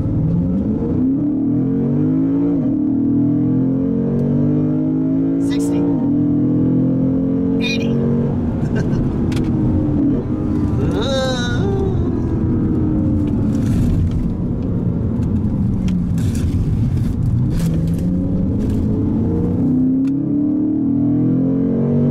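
The V8 engine of a 2017 Lexus GS F revs and accelerates loudly from inside the car. Its rising, falling pitch sweeps through several gear changes, with a deep, steady rumble underneath.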